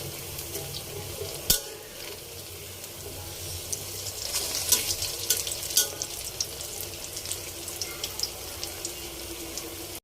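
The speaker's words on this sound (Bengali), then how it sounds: "আমি এখন পেঁয়াজটাকে লাল লাল করে ভেজে নিব" Onions fry in hot oil, producing a continuous close sizzle with crackling spits and occasional scraping stirs throughout, moderately loud with no voices.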